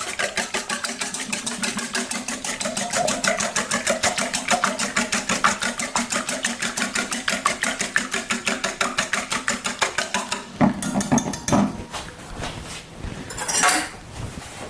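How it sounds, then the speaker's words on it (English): Pancake batter with sea salt, black pepper and nutmeg whisked rapidly in a bowl, giving a fast, even clatter of metal against the dish for about ten seconds, then a few slower, irregular strokes. "I'm going to whisk this together really good"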